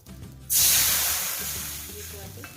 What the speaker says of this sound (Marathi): आता मोजून आपण दीड वाटी पाणी याच्यात टाकून घेऊयात